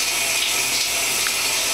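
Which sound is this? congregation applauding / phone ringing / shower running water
shower running water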